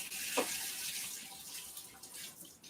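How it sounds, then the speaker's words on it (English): Tap water runs steadily into a kitchen sink while small baby potatoes are rinsed under it, a continuous hissing flow with a brief splash near the start and no talking. "You can rinse this off."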